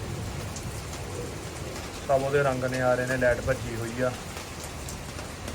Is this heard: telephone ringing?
no